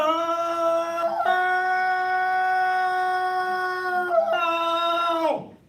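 A man lets out a long, warbling Tarzan-style yell, a loud sustained howl imitating the jungle cry, with pitch breaks near the start and end.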